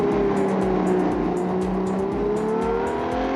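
A racing car in a video game revs high and holds near the top of its rev range, a loud, steady engine whine with rapid pulsing, close and alone without talk.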